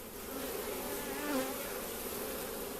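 Honey bees in a newly installed beehive, a dense continuous close buzz that swells briefly as one flies near, with no talking.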